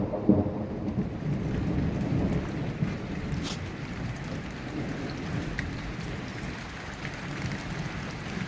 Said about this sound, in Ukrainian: Дощ пішов, тікаємо.